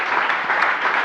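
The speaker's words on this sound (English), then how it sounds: "Big round of applause to WeWork." A large audience at a startup talk breaks into dense, steady applause that sounds close and full, a brief burst of many hands clapping at once.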